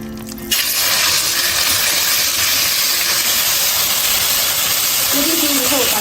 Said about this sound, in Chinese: 鸡胸肉腌好了，上锅煎一下